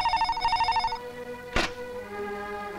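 A telephone bell rings in a rapid trilling burst for about a second, then stops; a single dull thunk follows, with faint background hum.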